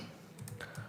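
A few quick, light keystrokes as a username is typed on a computer keyboard, heard as soft, close clicks over a faint steady background hum.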